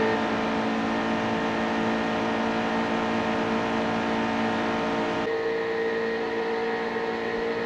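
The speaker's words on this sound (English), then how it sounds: "listen to that mediocre GT sports car sound." A GT sports car engine in the racing video game NASCAR Heat 2 drones steadily at full throttle, loud and close, with a restrictor-plate-like tone, then shifts slightly as the throttle lifts near the end.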